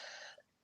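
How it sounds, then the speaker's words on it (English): A single person clears their throat quietly and close by, one drawn-out rasp, a short pause, then a brief sharp final burst. "I'm actually feeling the need to clear my throat."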